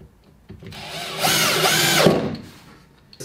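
A power drill drives a screw into wood while building a table saw station, a close whirring that ramps up, strains under load, and stops after about two seconds.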